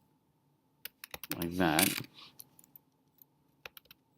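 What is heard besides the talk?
typing on a computer keyboard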